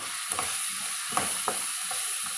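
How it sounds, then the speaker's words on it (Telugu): Soaked moong dal fries in a pan with a steady, close sizzling hiss, broken by a few sharp scrapes and knocks as it is stirred. "ఇది వేగేదాకా వేయించాలండి. ఇట్లా మంచిగా ఫ్రై చేసుకుంటూనే ఉండాలండి."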